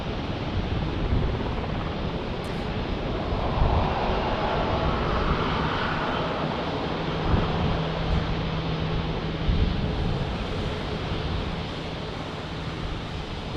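A DHL cargo plane at San Diego airport gives off a steady, broad jet roar that stays loud and even throughout, with no talking.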